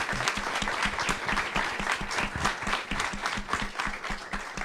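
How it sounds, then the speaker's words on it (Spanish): Audience at a punk music listening session and talk applauding, dense steady clapping throughout, close and fairly loud with no voices. "Un aplauso, por favor."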